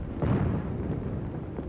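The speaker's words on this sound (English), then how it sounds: "they were sending up those fireworks in honor of you" Fireworks for Memorial Day rumble as a continuous, dense mass of distant booms and crackle with no clear individual pops, steady and moderately loud throughout.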